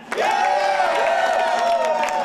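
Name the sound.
crowd in line cheering for the iPhone 5 launch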